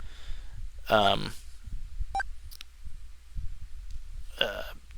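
Short electronic beeps and tones of a video phone being dialed in the 1994 Konami Sega Mega CD game Snatcher, sounding as sparse chirps between bursts of a voice speaking.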